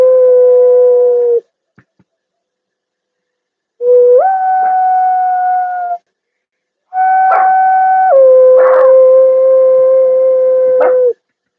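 A dog howls excitedly in three long wavering bursts separated by short pauses, loud and close, with no talking over it.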